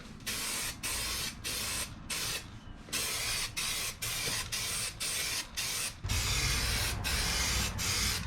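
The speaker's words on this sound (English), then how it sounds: "I've got a little bit of this Transtar 2-in-1 primer left." Transtar 2-in-1 primer sprayed from an aerosol can in a garage shop, heard as a loud close hiss in a steady series of short bursts with brief gaps, ending in one longer continuous spray.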